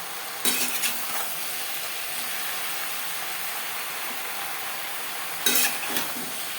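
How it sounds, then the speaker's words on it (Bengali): Pumpkin, stems and Malabar spinach being stirred in a frying pan, a steady close sizzle of frying greens with two brief bursts of spatula scraping and clinks against the pan at the start and near the end. "ডাঁটা ও কুমড়োর সাথে পুঁইশাক বেশ ভালো করে মিক্স করে দেবো।"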